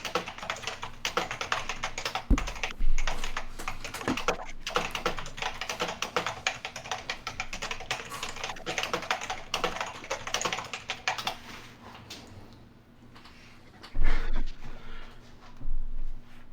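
Computer keyboard typing runs steadily for most of the stretch as dense rapid key clicks, moderately close, easing off near the end with a few louder bumps and no speech.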